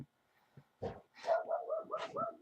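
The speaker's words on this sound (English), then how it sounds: "Sometimes people's dogs get loose." A loose dog barks in a short run of several sharp barks and yips after a single early bark, fairly close and moderately loud with no talk over it.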